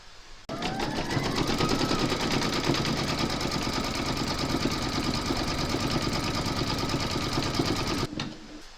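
An embroidery sewing machine stitches a slipper design in a hoop, starting abruptly and running with a fast, steady mechanical chatter for several seconds before stopping.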